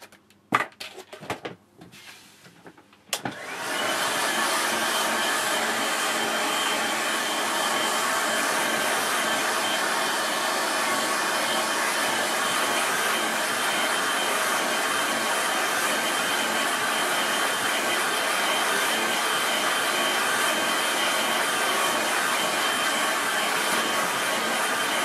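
After a few faint clicks, a hair dryer switches on and blows steadily for over twenty seconds, a loud constant whoosh drying a watercolour landscape painting, with no talk.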